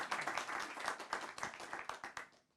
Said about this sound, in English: Big round of applause for Kirill.